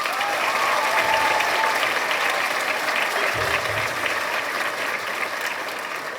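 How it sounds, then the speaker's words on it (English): A school orchestra concert audience gives Miss Fowler a full, dense round of applause, many hands clapping steadily in a hall for several seconds, tapering only slightly at the end. "Please give her applause."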